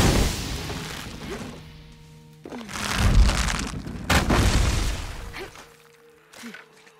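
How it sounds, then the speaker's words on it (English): Explosions go off in the video game Shadow of the Tomb Raider: two heavy booming blasts a couple of seconds apart, each with a crashing rumbling tail, over quieter game tones and ambience. "Have to create an explosion."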